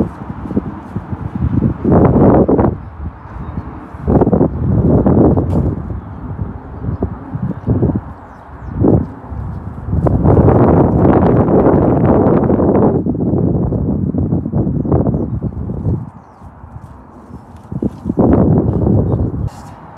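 Gusty wind buffets the microphone in loud rumbling bursts that rise and fall, with quieter gaps between gusts.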